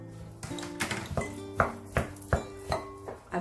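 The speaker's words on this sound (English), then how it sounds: "I will start to mix all the ingredients in the bowl." Minced beef mixed with ingredients for beefballs in a bowl in a home kitchen, heard as a close series of rhythmic clinks and knocks of utensil on bowl, steady strokes about every third of a second.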